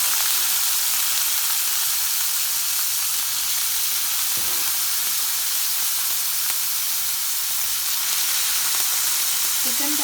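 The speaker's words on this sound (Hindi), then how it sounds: "अब मैं इसमें चिकन डाल रही हूँ।" Chicken pieces dropped into hot oil with lightly fried cumin seeds, giving a steady, close sizzling hiss throughout with a few faint stirring clicks.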